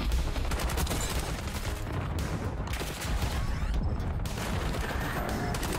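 Gunfire in the video game Black Ops 6 from a single-fire weapon, loud and dense, shots and impacts running together almost without pause for several seconds.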